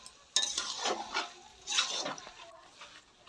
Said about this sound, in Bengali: দিয়ে আদা রসুন হলুদ দিয়ে পেঁয়াজের সাথে চিকেনটাকে কষা হচ্ছে সমস্ত মশলাপাতি দিয়ে